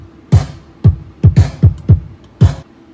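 Fart sample processed with effects into an 80s-style snare, with a parallel effects chain. Seven short punchy hits land in an irregular pattern, each a thumping low body with a bright noisy tail. They are fairly loud and heard alone, with no talk.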